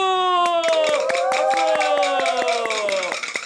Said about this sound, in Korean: 자 여러분 박수!